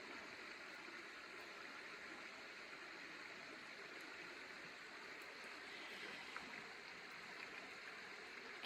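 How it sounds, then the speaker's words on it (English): The Davidson River in Pisgah National Forest flowing, a soft, steady, even wash of moving water at a low, unchanging level. "I'll let you take in the river here for a minute"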